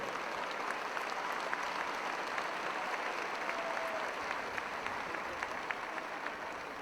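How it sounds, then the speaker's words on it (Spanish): A congregation at a Catholic prayer gathering claps in steady, sustained applause that stays fairly distant and quiet, with scattered sharper claps standing out through the roughly seven seconds. "Fuerte aplauso al Señor."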